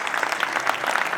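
A brief, steady wave of audience clapping during a standing ovation for an Italian singer, dense and even throughout.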